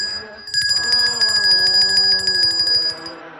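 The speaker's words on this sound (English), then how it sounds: "every time a bell rings, an angel gets his wings" A stage bell rings in a fast, steady metallic trill for about three seconds during a high school drama ensemble's live performance of "It's a Wonderful Life," loud and close with no talk over it.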